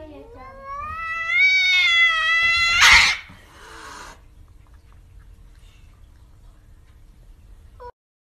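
A cat meows and caterwauls in a long, rising and wavering yowl lasting about three seconds, loud and close, ending abruptly, followed by quiet room noise and a faint click.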